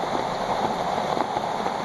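Steady rain falls during a thunderstorm, heard from a wooden bridge on a mountain hiking trail. It makes a dense, even hiss with patters of drops and no break, and nobody speaks.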